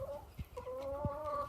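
Laying hens cluck and murmur close by, huddled inside their coop on a snowy day, with drawn-out tonal cackles overlapping soft thumps.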